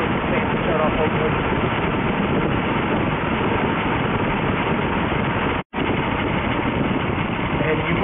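A Volkswagen Eurovan engine idles with a misfire, a dense, continuous rumble heard up close with only a brief dropout partway through.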